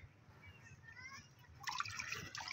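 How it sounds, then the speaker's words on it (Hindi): Boiled water is changed in a pot while kuchla (nux vomica) is being prepared. A quiet, low rumble gives way to a sudden burst of splashing and pouring water that continues to the end. "ये हमने पानी बॉयल किया है, इसको चेंज कर रहे हैं"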